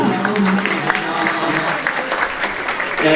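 A school farewell party audience applauds for a teacher's award with dense, lively clapping mixed with crowd chatter, loud and close throughout.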